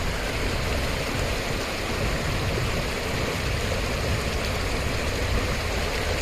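Fresh spring water gushes in a steady, dense broadband rush with no pauses, close and fairly loud, at a hillside jungle house damaged by a landslide.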